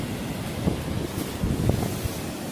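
Sea waves and wind along the shore, a steady rushing roar with buffeting gusts and swells that rise and fall, all close to the microphone and without speech.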